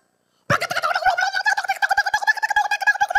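A loud, fast, bubbling gobble-like call from a fowl starts abruptly after a moment of silence and rattles on continuously, close and alone.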